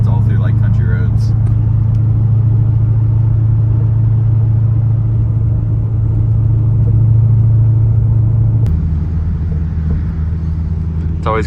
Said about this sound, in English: It's always cool driving through here.